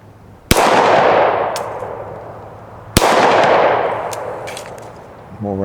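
Two sharp pistol shots fired at long-range targets, each a loud close crack followed by a long rolling echo that fades over a couple of seconds, with a faint metallic clink near the end.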